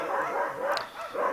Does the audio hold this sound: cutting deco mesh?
no